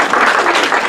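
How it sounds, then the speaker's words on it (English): Dense, steady audience applause after a magic trick, many hands clapping loudly and continuously at close range with no pause. "And everybody claps like this."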